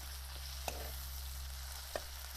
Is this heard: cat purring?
no